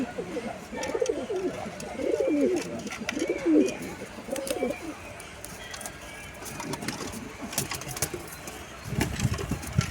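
Pigeons fighting in a coop coo in repeated throaty bursts, followed by wing flaps and scuffling with a low engine hum behind.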